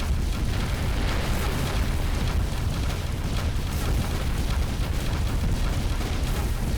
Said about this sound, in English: especially now we're getting bombarded